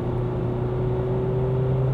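A 2022 Ford Ranger XLT double cab with a six-speed automatic holds its engine at high revs, a steady, loud droning hum with a strong constant tone, heard from inside the cab without talk.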